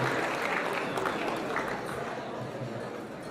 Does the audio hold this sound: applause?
yes